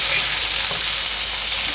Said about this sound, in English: I'm going to leave that there while this steak cooks.